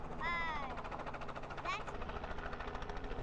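A helicopter's steady rotor and engine drone runs continuously beneath overlapping speech outdoors, with a low rhythmic thump persisting throughout.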